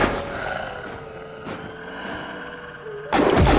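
Video game gunfire crackles and booms through a busy, noisy mix, with sharp shot bursts near 1.5 s and a loud burst at the end; no clear speech.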